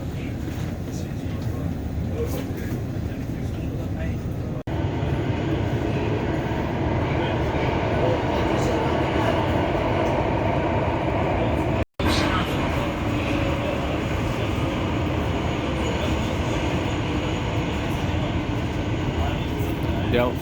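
Steady, loud rumble and rattle of a train riding through the Netherlands between Delft and Rotterdam, a continuous interior roar with one brief dropout near the middle.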